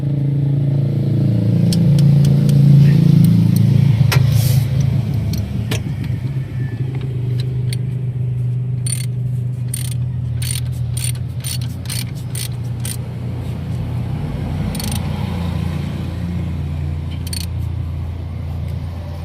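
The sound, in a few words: tightening the drive belt adjuster on an Isuzu Crosswind engine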